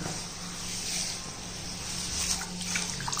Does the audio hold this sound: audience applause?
no